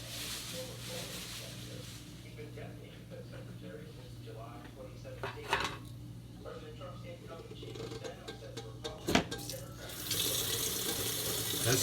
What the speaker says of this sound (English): You can drain some of that grease off because it is a lot.